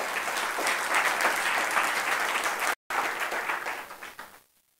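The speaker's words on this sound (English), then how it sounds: "So I would like to have an applause for Andy" A conference audience at an open-government and free-software talk applauds a speaker, a full, even round of clapping from many people that breaks off for an instant and then fades away to silence.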